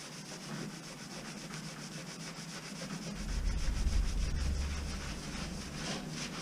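Abrasive towel rubbed over a boat surface during a major restoration, a continuous close scrubbing hiss that grows heavier and louder midway, with no talking.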